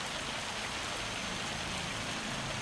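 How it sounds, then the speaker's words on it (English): Hail falling steadily outdoors at a logging and mining site beside a big shed, a dense continuous patter of ice striking surfaces at even loudness throughout. "Hail's just coming down, isn't it?"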